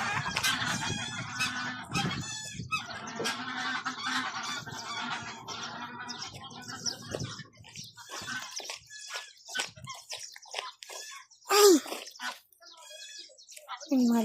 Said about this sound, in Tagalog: Pero gansa, ang dami.